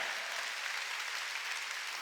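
A church congregation at a Korean Sunday worship service applauds together, a soft, even patter of many hands clapping that sounds distant and sustains throughout without any talk.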